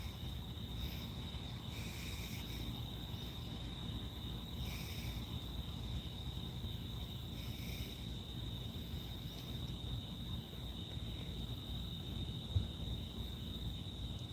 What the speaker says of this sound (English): little bit of cricket noise